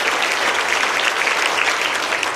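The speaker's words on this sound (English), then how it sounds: "a round of applause" A crowd applauds loudly at the Buc-ee's groundbreaking ceremony in Benton, Arkansas, a thick, continuous wash of many hands clapping at once that stays even and full throughout, with no voices on top.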